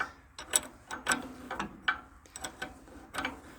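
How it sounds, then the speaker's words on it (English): A wrench ratcheting on a bolt of a vintage trailer-mounted GE welder/generator, close and fairly quiet, giving a quick uneven series of metallic clicks and ticks. "we're just tightening it with a wrench and hoping for the best"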